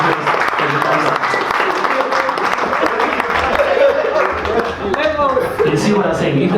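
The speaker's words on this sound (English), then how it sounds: "Please give a round of applause as he comes up" Audience applause at a men's mental health conference in Namibia, a steady dense clatter of many hands that fills the room for several seconds, with cheering and talk woven underneath.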